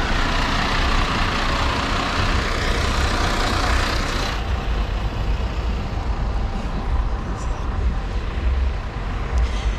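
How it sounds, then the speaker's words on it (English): A bus rumbles past on a town street in Cardiff, with a loud, broad engine roar for the first few seconds that then drops to a low idling drone and steady traffic noise. "Oh, there goes bus."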